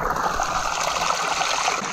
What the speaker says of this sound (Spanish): Aquí podemos ver el agua corriendo.